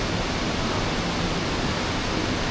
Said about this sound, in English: this ambient sound of waterfall.